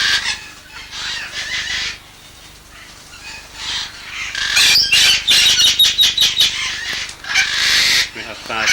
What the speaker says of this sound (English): A pair of red-vented cockatoos.